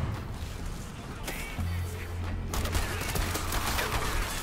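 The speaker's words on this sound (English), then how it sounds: "Ugh, shotguns." Shotgun fire in the video game Strider: bursts of sharp, crackling blasts in a dense run over a low, steady game hum, the firing thickening and growing louder toward the end.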